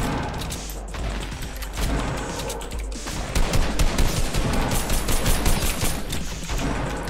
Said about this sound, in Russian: Кто стреляет по мне?